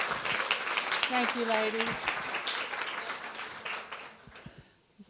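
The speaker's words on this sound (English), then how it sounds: "If you all give them a round of applause." Audience applause at a Women in STEM mentor pairing event, a steady broadband patter of many hands lasting throughout, with a person speaking briefly over it before the clapping thins out toward the end.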